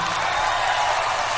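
A concert audience applauding at a show in Japan, a dense, loud wash of clapping and crowd noise filling the whole moment.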